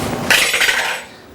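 A metal spoon dropped into a kitchen sink, a single short clatter with a bright ring that fades quickly.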